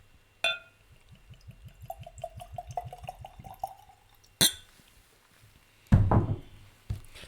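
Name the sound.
pouring Blood Oath Pact whiskey into a glass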